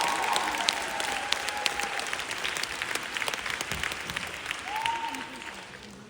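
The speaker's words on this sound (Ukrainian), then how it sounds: "купайте в оплесках, майбутні артисти" A concert audience applauds young child performers, dense clapping throughout with a presenter's voice heard over it.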